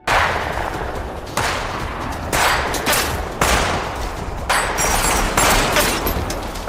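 Gunfire rings out in an action film, a dense, loud run of shots that comes in several rapid bursts one after another over a constant noisy backdrop, with no voices.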